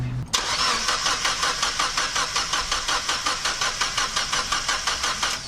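A Mazda Miata engine cranks and catches, settling into a steady run with a rhythmic pulsing chug throughout. It is close, loud, and heard on its own.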